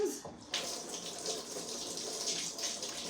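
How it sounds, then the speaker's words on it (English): Hands washed under a running kitchen tap while chili cooks, a close, steady splashing gush of water that starts abruptly after a brief pause. "Let me wash my hands."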